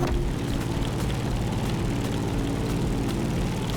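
A propeller airplane engine from the racing video game The Crew Motorfest drones continuously in flight, a loud, steady low-pitched hum with a buzzing propeller texture, unbroken and with no talking over it.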